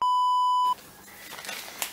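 A single loud, pure-toned censor beep holds for under a second, then cuts off into quiet background noise.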